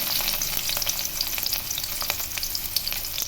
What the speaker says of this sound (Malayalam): എണ്ണയൊക്കെ ഒഴിച്ച് കൊടുത്തു കേട്ടോ എന്നിട്ട് അതിലേക്ക് നമ്മൾ അരിഞ്ഞു വെച്ച ചെറുള്ളിയൊക്കെ ഒന്ന് ഇട്ട് കൊടുക്കാം